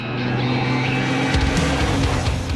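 A MAN race truck with a 12.6-litre engine revs hard, a loud continuous roar that climbs in pitch and deepens midway as the throttle opens, close and unbroken with no speech.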